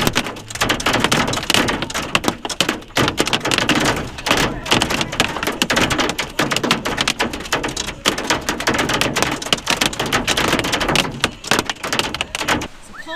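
Heavy rain and hail pound an RV roof in a loud, dense, continuous clatter of sharp impacts throughout, with brief voices underneath.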